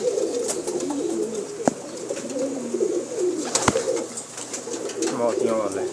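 Pigeons coo in a cote of fancy breeds, a dense overlapping chorus of soft throaty calls close by, with a couple of sharp knocks and a voice talking over them.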